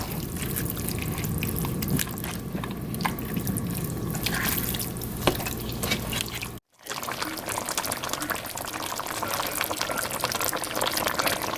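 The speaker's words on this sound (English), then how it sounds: "we're just gonna let it simmer until our potatoes get done to the softness that we want" Korean pork neck bone soup with potatoes simmers in a pot, giving a steady, busy bubbling and dripping wash that is briefly cut and then resumes, close and without talk.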